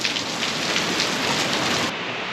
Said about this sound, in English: That's a pretty good little rain cell there.